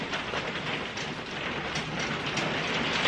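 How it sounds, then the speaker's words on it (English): Hailstorm with heavy rain outside makes a dense, continuous hiss and patter, moderately loud and steady throughout, with no talking. "Like, it's full on hailstorming."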